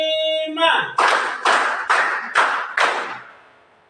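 A class plays a rhythm clapping game in a classroom: a voice calls out briefly, then five loud, evenly spaced group claps ring out in unison before the room falls quiet.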